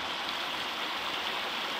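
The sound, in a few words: hot river water flowing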